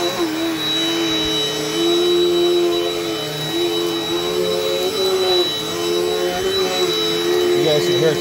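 A Dirt Devil Dynamite Plus upright vacuum cleaner with fixed height adjustment runs over carpet with a loud, steady motor roar and whine, pitch wavering slightly as it is pushed back and forth, close to the listener.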